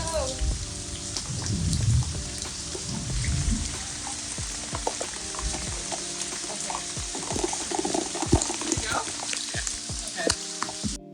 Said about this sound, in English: I was a little bummed that it was raining